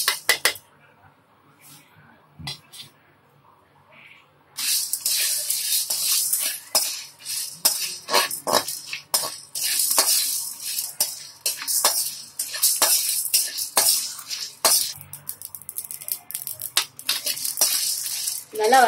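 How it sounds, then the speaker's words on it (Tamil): Whole peppercorns, cumin seeds and dried red chillies dry-roast in a pan, stirred with a metal spoon that gives repeated sharp scraping clinks and rattles against the metal. The sound is quiet at first, then busy and close. "ஃபஸ்ட்டு மிளகு, சீரகம், வரமிளகாய் இது மூணையும் வறுத்தரலாம்."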